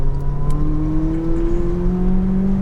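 A McLaren 570S engine on a racetrack climbs in pitch as the throttle opens, a loud, close onboard whine and growl rising smoothly over a few seconds.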